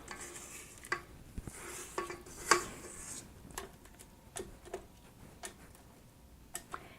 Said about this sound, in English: Scrape down the bowl.